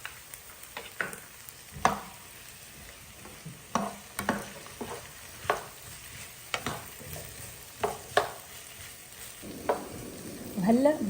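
Fried potatoes, onion and tomato paste are stirred in a sizzling pan for potato shakshuka, with a constant frying hiss and irregular scraping stirs of the utensil close up.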